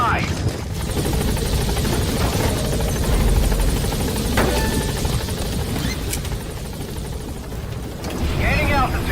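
A helicopter taking off in Metal Gear Solid V: a loud, steady rotor thump and turbine whine filling the whole stretch, with faint radio-style voices talking over it.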